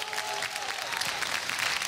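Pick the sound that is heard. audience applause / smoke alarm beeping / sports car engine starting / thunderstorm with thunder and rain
audience applause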